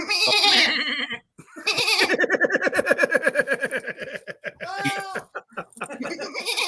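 A voice imitates a lamb or goat with a series of quavering, pulsing bleats, loud and close, broken by short gaps and mixed with some laughter.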